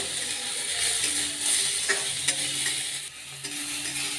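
Chopped tomatoes hiss and scrape as they are stirred round and round in a hot pan, a steady close frying rustle with a few light clacks of the spoon and no talk.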